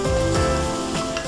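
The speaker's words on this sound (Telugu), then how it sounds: "కాజు కొంచెం వేగిన తర్వాత స్వీట్ కార్న్ వేస్తాము." Cashews frying in butter in a pan, a close, steady soft sizzle with a brief utensil knock.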